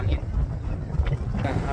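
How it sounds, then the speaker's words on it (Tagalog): Strong wind buffets the microphone in New Zealand, a dense low rumbling roar with gusty swells across the whole stretch and no clear other sound. "Lakas ng hangin."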